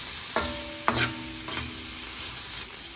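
Pork frying in a pan and releasing its oil, with a steady crackling sizzle and a few clinking stirs of a utensil against the pan, close by and with no talking.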